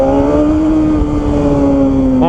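BMW S1000RR motorcycle engine holding a steady, loud high-revving drone, pitch sagging slightly then rising again near the end, continuous and close throughout.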